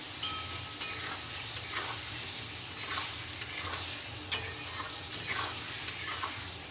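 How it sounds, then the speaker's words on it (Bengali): Potatoes frying with onion, cumin, cardamom and garam masala in an oily pan, giving a steady moderate sizzle broken by regular scraping and clinking stirs. "এই আলু ভাজছি এখন পেঁয়াজ দিয়েছি"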